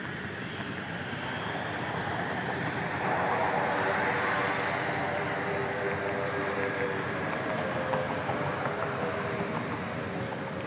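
An airliner at Dallas Love Field airport makes a steady, broad jet roar that holds at a constant loud level throughout, heard from some distance with no voices over it.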